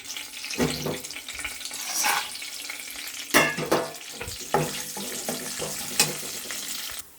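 Cashews, bay leaf, cloves, cardamom, cinnamon and mace frying in a pan for paneer curry, crackling sizzle broken by several sharp spoon scrapes and clatters.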